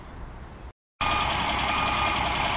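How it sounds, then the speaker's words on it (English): A concrete truck arrives at a house-addition foundation site to pour footers, its steady reversing beeper sounding loud and close over engine rumble, with a brief gap in sound early on. "So a concrete truck is here."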